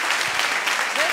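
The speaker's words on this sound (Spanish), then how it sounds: "Por favor, un fuerte aplauso para Moni." An audience at a business opportunity meeting claps loudly and continuously at close range, a dense burst of applause filling the short moment.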